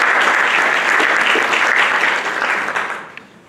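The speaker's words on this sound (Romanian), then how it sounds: "Și vă rog să-l aplaudăm!" Loud applause from a business conference audience at a Bucharest hotel, dense sustained clapping from many hands that tapers off and dies away at the end.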